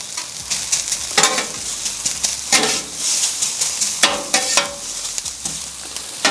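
Bean sprouts sizzle and fry on a flat griddle for BBQ fried rice, with a steady hiss broken by repeated scraping and stirring strokes of a metal spatula, close and loud.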